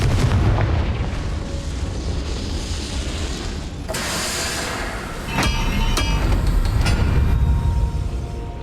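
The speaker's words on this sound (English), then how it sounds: "Confringo!" A Confringo fire spell goes off in the Hogwarts Legacy video game on Switch, a loud, booming blast over continuous heavy game rumble, followed by sharp crackling impacts.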